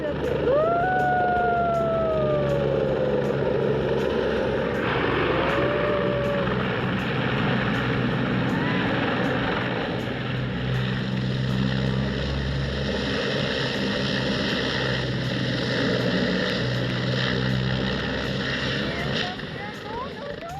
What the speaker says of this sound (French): Voici des images de l'hélicoptère d'Evo Morales, l'ancien chef de la Bolivie